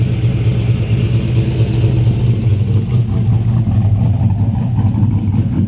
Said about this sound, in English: if you guys know anything about vehicles, you can probably hear the cam now